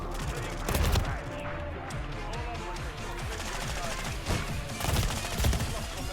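Rapid gunfire in Call of Duty MWIII rattles in bursts over a dense, busy game soundscape, with sharp cracks clustering near the start and end, steady at moderate level.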